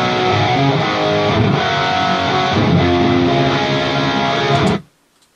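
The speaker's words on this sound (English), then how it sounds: "the second set of cabs that I used have a little bit more bass response, a little bit darker sounding." Dense, distorted electric guitar chords played through speaker cabinets with extra bass and a darker tone, loud and sustained for about five seconds before cutting off abruptly to silence.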